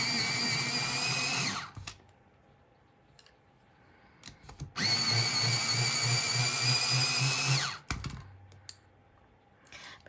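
An electric pencil sharpener grinds colored pencils in two loud, close bursts of buzzing whir, each lasting a couple of seconds, separated by quiet handling clicks.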